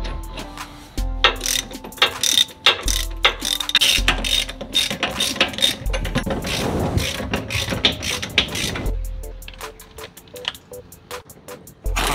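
A ratchet clicks in quick repeated bursts while bolting up 1-ton crossover steering on a Jeep TJ with 38-inch tires, loud and close, with pauses between runs and a short stretch of rustling.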